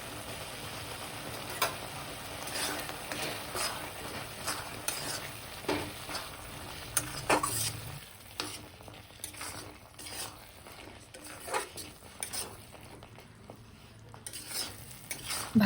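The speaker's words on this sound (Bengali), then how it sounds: "বেশ কিছুক্ষণ ধরে আমি এটাকে নেড়ে চেড়ে নেব।" Tomato and jujube chutney is stirred in a pan, a soft steady sizzle under repeated scraping strokes and light clinks of a utensil against the metal, close and continuous without any voices.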